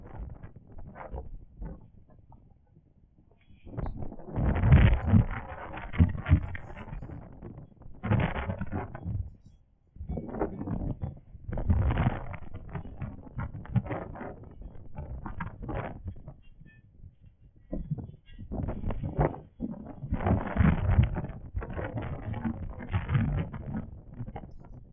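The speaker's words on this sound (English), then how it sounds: "That sound you're hearing, that's the wind." Gusty wind buffets the microphone in loud, rumbling surges separated by brief quieter lulls.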